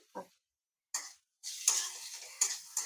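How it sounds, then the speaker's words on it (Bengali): Vegetables lightly sautéed in a pan, soft sizzling bursts that start and stop, the last stretch a steadier frying hiss with small crackles, close and fairly quiet. "এটাকে হালকা করে সতে করে দেবো, বেশি ফ্রাই করলে ভালো লাগবে না দেখতে"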